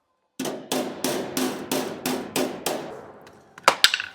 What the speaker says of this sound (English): I got this edge of the hammer and I'm just rattling it on whatever little high spots